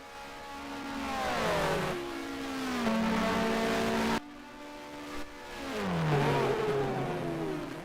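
A Formula One car from the Grand Prix 2 video game, racing the 1990 British Grand Prix at Silverstone, roars up through the gears in two loud, rising engine sweeps. A brief break separates them, and each pull climbs as it accelerates toward the finish.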